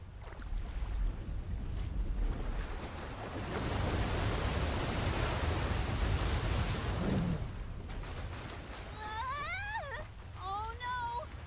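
Crashing ocean waves in the video game Visions of Mana, a broad surging roar of surf that swells and rolls for several seconds, followed by bird-like chirping calls near the end.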